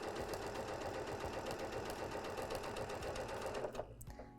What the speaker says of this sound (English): I'm going to sew my seam.